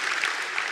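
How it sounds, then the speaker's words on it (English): Audience applause at a cyber security conference in a large hall, a short burst of many hands clapping steadily and fairly loud throughout, with no voices over it. "Just clap your hands for everyone who is here for the first time."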